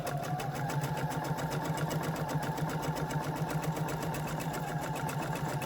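A sewing machine runs steadily, stitching a quarter-inch seam along the edge of a fabric placemat, its needle producing a fast, even, continuous drone that carries alone and close throughout.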